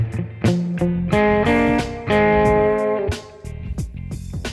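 Jazz guitar plays an arrangement: short punchy chord stabs and plucked notes in a syncopated groove, close and moderately loud, with no voices.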